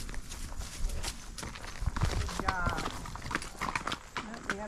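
Hooves clip-clop in a steady walking rhythm as a horse is ridden outdoors, close and fairly loud, while people talk over the footfalls.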